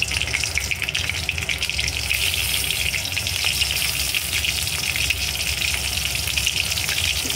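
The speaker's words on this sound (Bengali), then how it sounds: "এবার এই তেলের মধ্যে আমি একটু কালো জিরে ফোড়ন দিয়ে দেবো আর কাঁচা লঙ্কা দিয়ে দেবো।" Nigella seeds and green chillies sizzle steadily in hot oil, a dense, close, continuous crackling frying hiss with no talk, as the tempering for a rohu fish curry begins.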